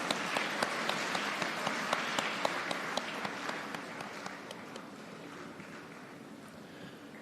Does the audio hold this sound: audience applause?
yes